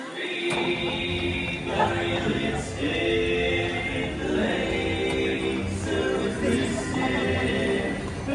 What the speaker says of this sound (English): This is Coach the Horse moving away.